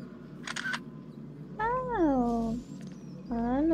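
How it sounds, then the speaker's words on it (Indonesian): A black cat in the horror video game DreadOut meows in several drawn-out, rising and falling calls, close and fairly loud, with a short rattling sound just before and a faint high tone in the background. "Ada kucing hitam."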